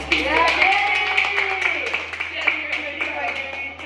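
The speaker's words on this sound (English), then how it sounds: "let's all give a round of applause to Danny as he comes up here and speaks" Clapping from a small audience welcoming a guest speaker at a camp event, a steady patter of hands running throughout with cheering voices mixed in.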